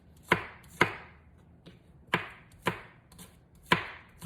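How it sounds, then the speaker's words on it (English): A knife chops green onions on a cutting board, six distinct sharp thuds at an uneven, unhurried pace, close and alone with no talk. "Chop up your green onions."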